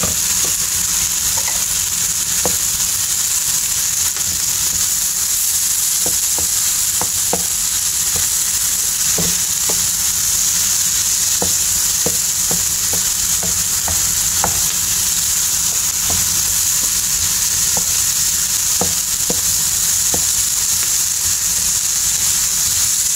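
Celery being stir-fried in a hot pan for pancit canton makes a continuous loud sizzle, broken by frequent short scraping clatters of the spatula against the pan.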